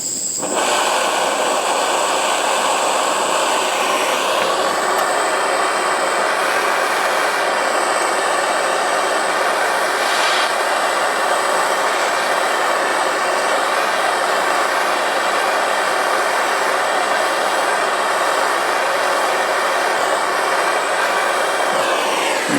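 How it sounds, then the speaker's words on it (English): A jeweler's torch heats a silver ring so the solder flows. It makes a loud, steady roaring hiss that holds constant for over twenty seconds, with a slight shift in tone partway through and no talking. "And then we'll just heat this up and see how much the solder flows into that."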